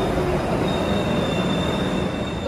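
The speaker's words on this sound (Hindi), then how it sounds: "तो गाइस ईस्ट साइड का मेट्रो आ गया है पर मेरे साइड का मेट्रो अभी तक नहीं आया।" A Kolkata metro train rolling into a station, a steady loud rumble of wagons with a thin sustained wheel squeal running throughout, close by and continuous.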